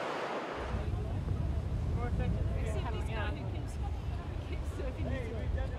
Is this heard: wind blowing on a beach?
yes